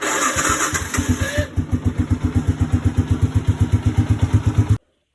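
The starter motor of a Yamaha Sniper 150 motorcycle cranks roughly on a cold start in a steady chug, pulse after pulse, loud and close, then cuts off abruptly.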